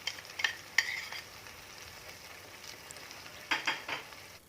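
A utensil scrapes and clinks against a frying pan while stirring in chili sauce, in a few short bursts, over a faint steady sizzle, with quiet gaps between the strokes.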